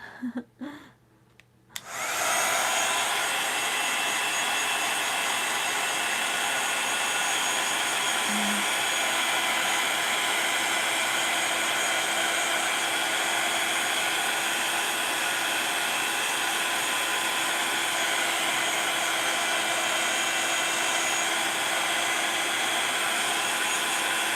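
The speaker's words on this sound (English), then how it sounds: "I'm gonna use my heating tool." Heating tool blowing hot air to dry a mixed media craft project, switching on after a brief quiet moment and then roaring steadily and loudly close by for the rest of the stretch.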